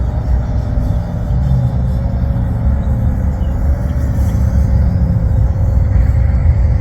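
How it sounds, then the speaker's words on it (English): A car driving behind the player in a video game, a steady low engine rumble and whir that holds evenly throughout with no talk over it. "There's a car behind me."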